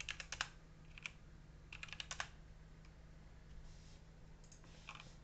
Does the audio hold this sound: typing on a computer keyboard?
yes